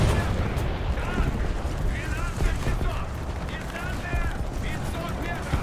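Machine gun fire rattles against a tank in War Thunder, a dense, continuous clatter of rounds and mechanical noise that stays loud the whole time.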